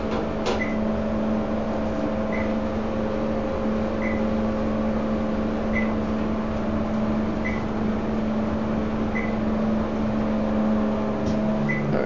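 A Dover elevator cab riding down in a White Plains train station municipal garage, a steady motor hum with a low drone and faint periodic clicks passing floors, continuous and fairly loud throughout with no talking.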